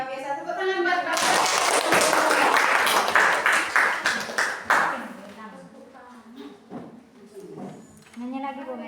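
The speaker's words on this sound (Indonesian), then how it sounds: "Tepuk tangan buat Bapak" A room of teachers at a school session claps, a burst of fairly loud applause for a few seconds that thins into scattered claps, with someone talking before and after.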